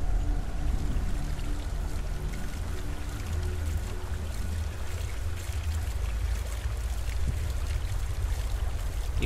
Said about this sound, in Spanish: Y la cascada, ¿eh?